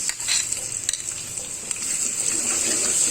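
Ginger garlic paste and green chili fry with onions in a hot pan, a close sizzle broken by scraping stirs and a few sharp utensil taps against the pot.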